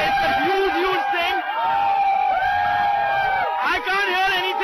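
A stadium crowd cheers after India's win over Zimbabwe, a loud, continuous roar with whoops and shouts, and someone speaks close over the noise.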